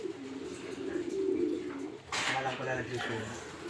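A red checker racing pigeon coos softly in a loft, a low repeated burbling call at close range with a person's voice and background noise mixed in.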